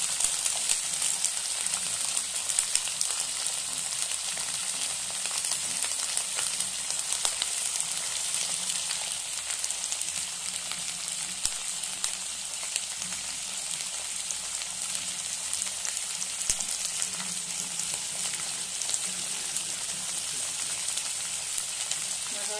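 Onion stalks and vegetables frying together in a pan, a continuous even sizzle with fine crackling that holds at a steady level close by, without speech.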